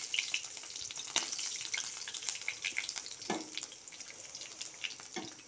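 Chili, ginger and two bay leaves frying in hot oil for a paneer curry, a continuous crackling sizzle with sharp pops throughout, heard up close with no voices.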